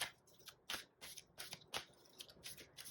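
Tarot cards being pulled and shuffled from a deck during a Hindi reading, a quiet run of close, crisp card flicks and slides in an uneven rhythm.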